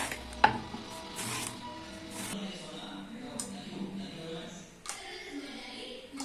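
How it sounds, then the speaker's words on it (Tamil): Raw plantain being sliced with a handheld slicer, several brisk scraping strokes and a sharp knock near the start, close and fairly quiet, with a voice talking through it. "இப்போ வாழைக்காய் சீவுறதுல இந்த மாதிரி சீவி எடுத்துக்கிறேன்"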